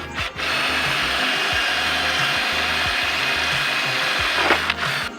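A power drill bores through the side of a wooden cross member on a table, running in one loud, sustained whine for several seconds, then slowing and stopping, with no talk.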